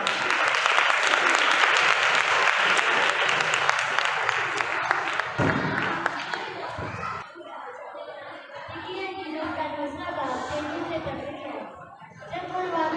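Audience applause fills a hall at a Sunday school Christmas program, loud and sustained for several seconds before fading, then giving way to scattered chatter and light laughter.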